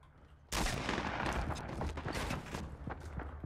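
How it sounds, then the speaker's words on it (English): Gunfire in the Fortnite video game: a sudden loud volley bursts in after half a second of near-quiet, then continues as dense, rapid, overlapping shots with sharp cracks standing out. "Who's shooting at me?"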